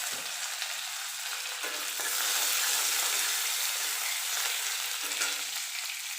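Curry leaves and chopped green chillies hit hot oil in a pan while okra thoran is being made, a loud, bright, continuous sizzle and crackle that swells briefly as the leaves go in, with no talking.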